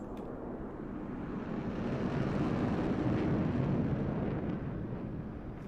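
Jet roar of an F-18 passing in Microsoft Flight Simulator 2024, a steady low rumble that swells toward the middle and eases off slightly, heard alone with no talk.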